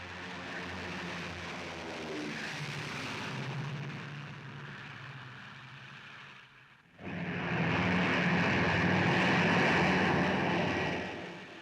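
World War II P-40 fighter planes take off from an improvised metal runway, their piston engines a loud, sustained droning roar with rumbling undertones that dips briefly before surging louder as the aircraft pass close by.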